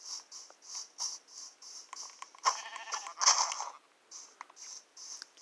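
Minecraft sheep bleat in short, repeated synthetic cries mixed with scratchy game sounds, close and without talk.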